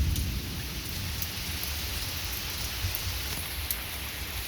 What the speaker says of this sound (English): Not an insanely heavy downpour, but it rains.